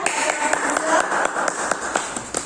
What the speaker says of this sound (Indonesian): Semuanya beri tepuk tangan